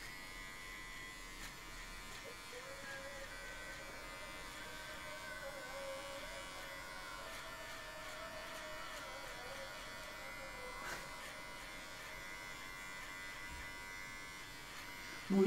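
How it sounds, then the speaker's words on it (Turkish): Electric hair clippers run with a faint, steady buzz as hair is cut down to zero, droning evenly throughout at low volume. "0'a kestirelim saçı."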